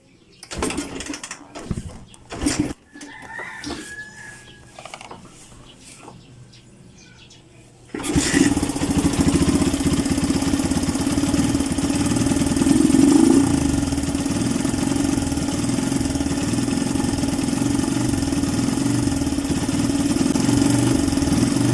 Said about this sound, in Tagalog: pagka binuhay mo siya, ay eh, ganito yung andar niya